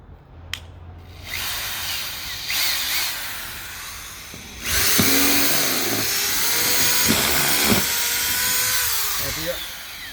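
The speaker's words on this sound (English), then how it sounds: "this is a 5 amp drill, so it has a lot more power than that" A corded 5 amp electric drill with a hand chuck whines up to speed after a few brief clicks and handling noises, running loudly and steadily close by with small pitch dips as it works.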